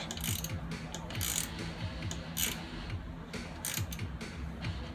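Ratcheting clicks from a 6 mm Allen key tightening bolts during a Rough Country leveling kit install on a truck, a steady run of close, repeated mechanical ticks with no talk.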